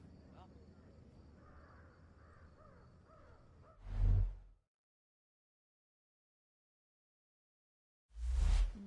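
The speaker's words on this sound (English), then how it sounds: "Hear that, friends? It's the crows." Crows in the Thief video game give two loud, harsh caws separated by silence, following a stretch of low murmuring voices and ambience.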